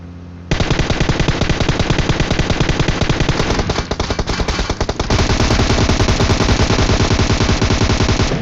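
Rapid, random automatic gunfire in a shooting video game erupts after a brief quiet start and keeps going as loud, dense, continuous bursts to the end.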